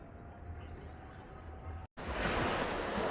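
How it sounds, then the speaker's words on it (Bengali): Churning, swirling water rushing past, a continuous close roar of turbulent flow that cuts briefly to silence and returns louder and brighter. "দেখো জল কীরকম উথাল পাথাল ঘুরছে জল এইখান দিয়ে জল ঘোরে"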